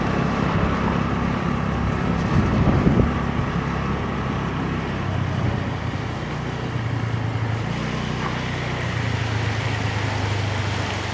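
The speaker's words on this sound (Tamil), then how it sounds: "அதில் ஒரு ஆட்டோ ஒன்று வருது" An auto rickshaw churns through floodwater on a rainy Jaffna street with a continuous wash of splashing and engine noise, buffeted by wind across the microphone.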